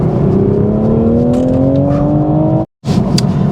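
A manual Toyota GR Supra MKV engine drones steadily while driving, its pitch rising smoothly as it accelerates, then cuts out abruptly for a moment before returning with a brief higher whine.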